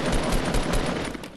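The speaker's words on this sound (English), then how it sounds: "I'm going to use my suppressed SMG and I'm going to shoot it a little bit." A suppressed SMG in Fortnite fires a rapid burst of muffled, evenly spaced shots, close and dense, lasting just over a second.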